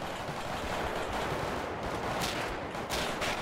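Gunfire from above in the game GTA V crackles in a dense, continuous barrage of shots, loud and unbroken over a noisy scene with no speech.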